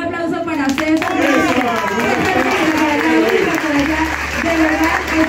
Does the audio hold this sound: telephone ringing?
no